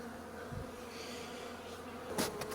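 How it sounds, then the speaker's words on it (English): Honeybees stream out of the hive on cleansing flights, filling the air with a dense, continuous buzzing hum and a few louder passes close by. "And I've got bees laying on me, pooping on me, doing everything."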